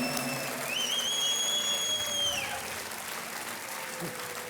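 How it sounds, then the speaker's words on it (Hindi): A studio audience on a game show claps in steady, dense applause that fills the whole stretch, with a whistle-like tone sliding briefly over it and a presenter's voice faint beneath. "तालियां बजती रहें देवी और सज्जनों।"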